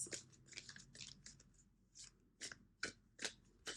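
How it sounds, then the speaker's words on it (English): Tarot cards are shuffled in quick, crisp riffling bursts, a run of close, quiet flutters and snaps followed by a few separate single shuffles. "Two more shuffles."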